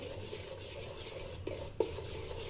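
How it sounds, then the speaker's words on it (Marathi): A spoon stirs soaked rice batter in a bowl, a soft steady scraping swish with a couple of light clinks against the side, close up and without talk. "चमच्याच्या साह्याने एक वेळा हे नीट मिक्स करून घेऊ"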